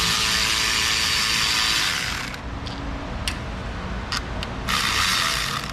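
A ratchet socket wrench works on a corroded, stuck part of a Pontiac Vibe, loud continuous mechanical clicking and grinding, then quieter scattered ratchet clicks and taps close by.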